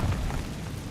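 A fiery Confringo spell blast in the wizarding game Hogwarts Legacy lands as one short, dense boom with a low rumble that stays loud and steady, with no voices over it.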